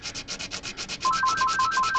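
A Takamine guitar nut being sanded by hand, quick rhythmic back-and-forth rasping strokes, close and steady, becoming denser and more continuous toward the end.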